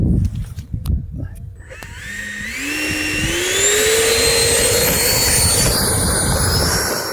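An L-39 trainer jet engine spooling up at an airfield, a rising turbine whine climbing in pitch over a broad steady roar that grows louder and holds, with brief voices near the start.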